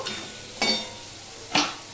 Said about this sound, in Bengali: এবার আলুটাও আমি ভালো করে ভেজে নেব